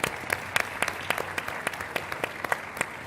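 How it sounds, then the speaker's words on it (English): Audience applause at a SaaStr Annual 2024 workshop stage session, a sparse room of distinct claps with sharp individual hand strikes, moderately close and steady. "I think let's give SaaStr a round of applause."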